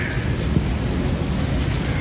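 Steady rain pouring down during a rainy-day outing, a dense continuous hiss of drops on surfaces, close and loud throughout with no pauses.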